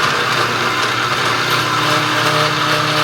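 Steady, loud whine of a power cutting tool slicing through a metal frame tube while fabricating a 4-link suspension mount, a continuous droning buzz with no pauses across the whole stretch, close to the microphone.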